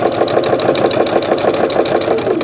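A Janome sewing machine runs steadily while sewing from the fabric edge, a loud, even rhythmic whir that continues through the whole short stretch.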